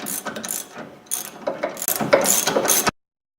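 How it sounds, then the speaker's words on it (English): A hand ratchet tightens a rear strut bolt on a 1998 Dodge Durango, giving close, rapid bursts of metallic clicking that come in several quick runs and then stop abruptly, with no voices. "I'll pull it as tight as I can with the ratchet."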